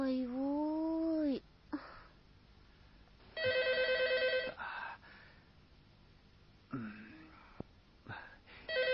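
A telephone rings during a scene in a Uyghur-language film: one burst of bright electronic ringing in the middle, with voices speaking before and after it.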